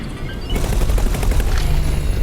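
Gunfire striking a ship's shields in the space game X4: Foundations, a dense continuous crackle of rapid impacts that thickens after the first half-second and holds steady and loud to the end, with no talk.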